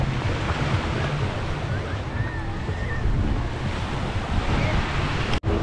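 Sea waves wash onto Boracay beach in a steady broadband roar, with wind buffeting the microphone throughout and no clear individual breakers standing out.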